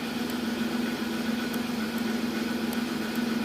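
A 2009 Pontiac Torrent engine idles at a steady, even hum after a throttle body repair, close by and continuous with no voices.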